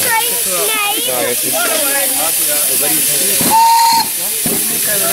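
A miniature-railway steam locomotive, LNER 458, hisses loudly and steadily while people talk, and a short whistle tone sounds near the end.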